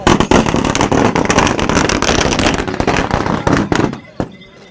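Dense, rapid crackling bursts of firecrackers going off one after another at a bullock market, loud and close, tapering to a few pops at the end.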